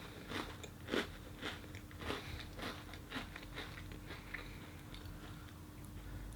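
Gluten-free Oreo cookies are bitten and chewed up close, with a string of quiet, sharp crunches at an uneven pace before softer chewing continues.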